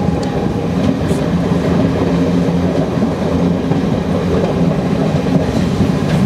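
An Indian Railway passenger train hauled by an electric locomotive rolls along on a journey between Vijayawada and Howrah, heard from inside with a steady loud rumble and rhythmic wheel clatter, continuous and without speech.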